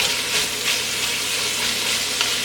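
Onions for French onion soup cook and sizzle in a pot, a loud continuous frying hiss with soft stirring scrapes and small pops, no voices heard.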